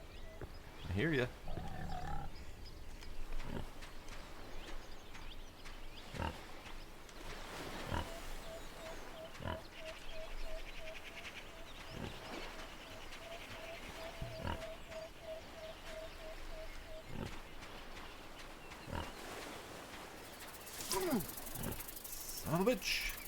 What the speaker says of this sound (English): Where you at, Piggy? I hear you.